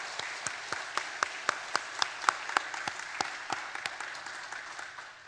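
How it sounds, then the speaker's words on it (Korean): Congregation applause of encouragement at an evening praise service in a Korean church, a soft background patter punctuated by distinct, fairly regular sharp claps that swell and then taper off. "박수로 격려해 주시기 바랍니다."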